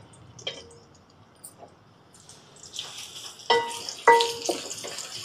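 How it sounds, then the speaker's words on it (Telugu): Pieces of bitter gourd land in hot oil. After a few soft clinks, a bright, crackling sizzle swells, with louder spatters and utensil knocks, close up. "ఇదిగో నూనె కాగిన తర్వాత ఫస్ట్ కాకరకాయ ముక్కలు వేసేసుకుని వేయించుకోవాలి"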